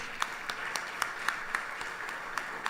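A temple anniversary gathering applauds the organizers of a youth leadership program; a soft, steady patter of clapping with a few sharper individual claps standing out at regular intervals.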